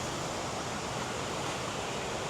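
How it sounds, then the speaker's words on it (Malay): A river at White Stone Campground in Kampar, Perak, rushing as a dense, constant wash of broadband water noise, close and loud, with no voices. "Tu sungai dia."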